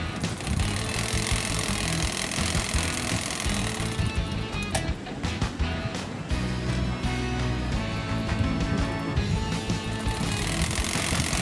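A sewing machine stitches a design panel onto palazzo pants, its motor whirring loud and continuous with a rapid mechanical chatter that dips briefly midway before running on.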